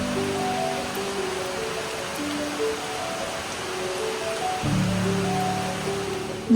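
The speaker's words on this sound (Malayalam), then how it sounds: "ഞങ്ങളുടെ ഈ ബാൽക്കണിയിൽ നിന്ന് മഴ കാണാൻ എന്ത് രസമാണെന്നറിയോ" Steady rain falls outside a balcony in India, a continuous, even hiss that stays alone with no talk and swells slightly toward the end.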